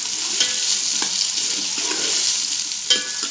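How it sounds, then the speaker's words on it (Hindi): Okra and onions fry in ghee with a continuous bright sizzle, broken by a few soft spatula stirs and clicks; nobody talks. "एक साइड भिंडी हमारी हो रही है फ्राई, दूसरी तरफ हम प्याज कर रहे हैं।"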